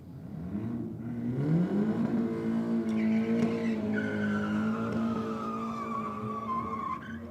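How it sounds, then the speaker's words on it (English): VW Golf GTI doing a burnout at Sydney Dragway, with loud, close engine revving that climbs and holds while tires squeal continuously for several seconds. "A very enthusiastic burnout from the GTI Golf in the Aeroflow lane."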